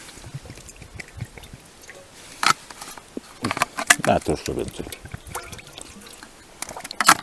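Water splashes and trickles into a frying pan outdoors at a camp amid metallic clinks and clatter, with a person speaking briefly over the sounds.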